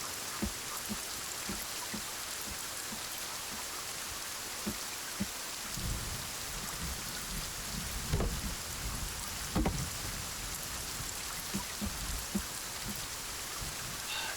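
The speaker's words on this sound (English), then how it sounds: "Is the rain, like, impacting the audio at all?" Steady heavy rain pours in the Sons of the Forest video game, a dense constant hiss with scattered louder drops and a few low rumbles, with no voices.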